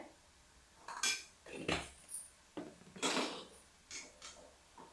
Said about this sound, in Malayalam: നന്നായിട്ട് ഇളക്കി കൊടുക്കട്ടെ